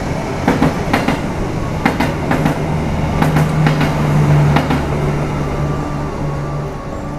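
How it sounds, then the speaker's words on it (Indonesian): The Menoreh passenger train runs through Cirebon station with a rapid clickety-clack of wheels over rail joints and a steady low rumble that gradually eases. "Yang barusan berjalan langsung tadi adalah kereta api Menoreh dari stasiun Semarang Tawang dengan tujuan akhir stasiun Pasar Senen"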